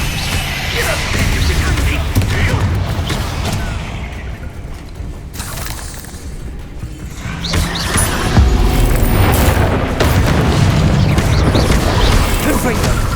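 Confringo blasting spell explosions in Hogwarts Legacy, loud booming blasts with mechanical clatter and rumbling effects layered throughout, dense and continuous with a brief lull midway.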